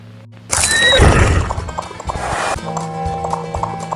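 A horse clip-clops and lets out a loud, close neigh, its hooves continuing in an uneven rhythm after the whinny fades.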